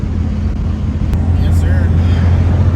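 A pickup truck crosses the Tappan Zee Bridge with a steady low road and engine rumble that fills the whole stretch, loud and continuous, with faint higher tones drifting over it.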